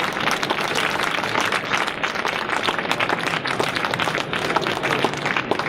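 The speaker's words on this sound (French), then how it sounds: "Alors on peut applaudir." An audience applauds the winner of a literary prize at a Geneva book and press fair, with dense, even clapping that holds steady for several seconds.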